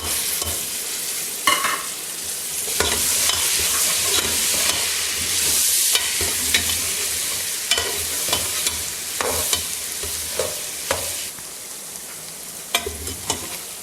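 Garlic sizzles and crackles steadily in hot oil for mutton karahi, with occasional scraping stirs against the pot, close and continuous.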